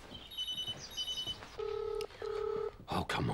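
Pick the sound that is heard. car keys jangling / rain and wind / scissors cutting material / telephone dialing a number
telephone dialing a number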